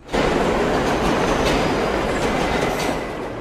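A subway train rumbles loudly and continuously, with a broad roaring wash of wheels on track and faint rhythmic clatter throughout.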